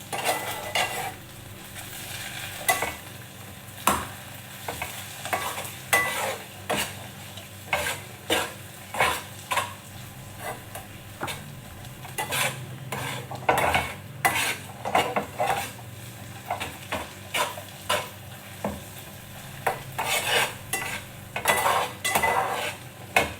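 Corned beef fries in butter in a pan, a soft steady sizzle broken by repeated close clinks and scrapes of a utensil stirring against the pan.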